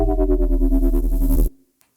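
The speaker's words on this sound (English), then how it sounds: "see that little sneaky extra distortion at the end?" A distorted synth tone from a Disclosure 'Arachnids' breakdown pulses with a rapid, gritty wobble, loud and close, then cuts off abruptly and leaves near silence.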